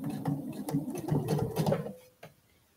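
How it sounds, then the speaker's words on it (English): A sewing machine stitches binding onto a quilted table runner in a fast, close whirring burst lasting about two seconds, then stops, followed by a single soft click. "And I'm going to sew down this side to the other corner."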